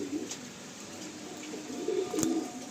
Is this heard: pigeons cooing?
yes